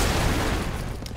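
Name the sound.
big explosion in the video game Broforce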